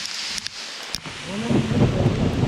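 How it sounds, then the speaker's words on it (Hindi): Thunder rolls in as a low, building rumble during a hailstorm on a mountain trek, with rain and wind noise around it and a few sharp taps early on. "बादल गरज रहे हैं ज़बरदस्त"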